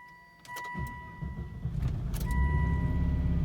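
Volvo V70R engine cranking and catching after a failed first attempt, then settling into a steady idle that grows louder, heard close by in a quiet space.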